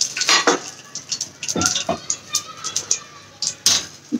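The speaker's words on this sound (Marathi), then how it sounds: "आणि आता हे जे मी तुम्हाला मसाले दाखवले होते ते पण मी टाकणार आहे" Whole spices and bay leaf hitting hot oil for a Konkan-style dry chicken, a steady sizzle broken by repeated clinks and scrapes of a spoon against the pan.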